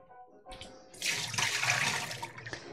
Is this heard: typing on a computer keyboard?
no